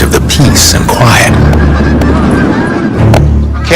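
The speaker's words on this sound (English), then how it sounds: "seagulls and Canada geese flock to airports, taking advantage of the peace and quiet" Canada geese honk at an airport, several loud nasal calls scattered through the scene alongside gulls, mixed under a narrating voice.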